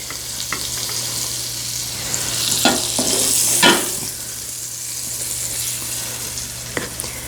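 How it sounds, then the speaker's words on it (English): Chicken pieces sizzle steadily in hot butter and oil in a pan, a loud continuous frying hiss with a few sharper pops and stirring clicks over it. "You can hear how it's already sizzling, so the oil is pretty hot."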